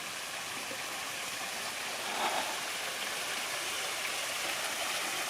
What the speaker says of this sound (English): See a waterfall up here.